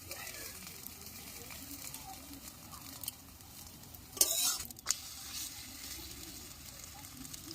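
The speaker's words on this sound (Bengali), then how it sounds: "আঁচটা কমে রেখে ভাজবেন।" A paratha frying in a little oil in a pan over low heat, giving a soft, steady sizzle with faint stirring and scraping, plus a couple of brief louder clatters near the middle.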